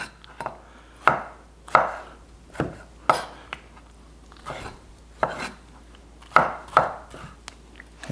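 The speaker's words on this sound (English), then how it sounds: "go ahead and cut your tomatoes smaller, like your other vegetables" A knife chops fresh tomatoes into small pieces for salsa, striking the cutting board in sharp, close taps that come singly and in quick pairs with short pauses between.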